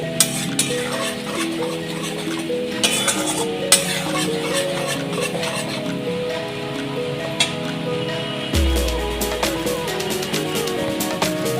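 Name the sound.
stirring and sautéing spice masala with cumin powder for paneer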